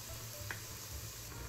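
Faworki dough fries in hot oil with a faint, steady sizzle and a few soft pops, heard quietly and close with no voices.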